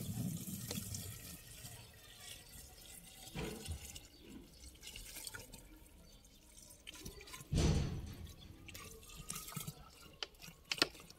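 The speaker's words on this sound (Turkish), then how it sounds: "Kalan suyu da şişenin içine boşaltalım." Leftover water is poured into a bottle in a garden setting, faint trickling and splashing with a louder gurgling burst midway and scattered drips toward the end, quiet and close with no talk.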